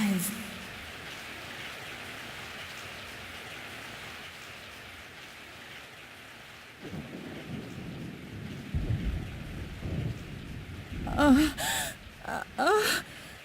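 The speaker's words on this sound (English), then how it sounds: "I woke up to the sound of falling rain." Steady rain falls, then low thunder rumbles in and a voice gasps sharply near the end, in the video game Resident Evil 3: Nemesis.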